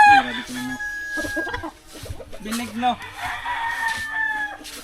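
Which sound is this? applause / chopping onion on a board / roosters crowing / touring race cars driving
roosters crowing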